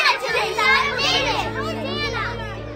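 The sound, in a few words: children crying out in the temple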